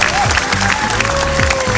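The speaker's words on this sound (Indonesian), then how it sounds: "sekali lagi untuk Anda semua tepuk tangan yang keras untuk teman-teman Anda" Loud audience applause at a hypnosis demonstration session, a dense wash of clapping with crowd noise and a voice or tone running through it briefly.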